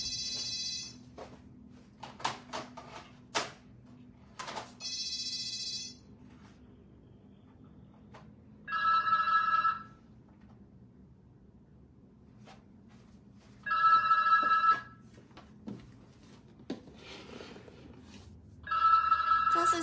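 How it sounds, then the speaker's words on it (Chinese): A telephone rings in short repeated bursts of electronic trill, spaced roughly five seconds apart, loud against an otherwise quiet room, with a few scattered clicks and taps before the rings begin. "那个电话很吵，都疯掉了，想关掉。"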